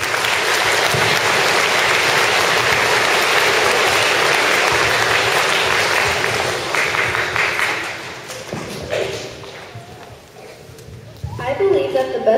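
A school assembly audience claps loudly and steadily for about eight seconds, then the applause thins and fades, with a few scattered claps and voices near the end.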